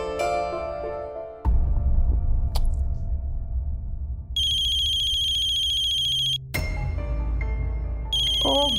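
A mobile phone ringtone plays for an incoming call, bright repeating electronic tones that stop briefly and start again, loud and close, with a short melodic phrase before the ringing begins.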